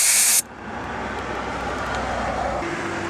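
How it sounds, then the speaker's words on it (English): Air hissing out of a car tire valve as a pressure gauge presses on it, a loud close broadband hiss that cuts off abruptly after a moment, leaving low background noise. "To reduce your tire pressure, you'll want to take the pressure gauge and take the back end of it and place it onto the nozzle and press as hard as you can."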